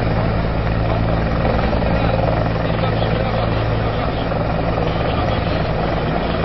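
Military helicopter lifting off during an operation in Nduga, Papua, its loud steady rotor and engine drone filling the whole stretch with a low rhythmic thump, close and constant.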